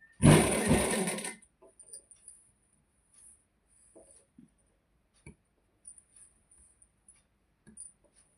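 A sewing machine stitching fabric for a salwar runs in one loud, close burst of about a second, followed by near silence with faint, scattered clicks and handling noises.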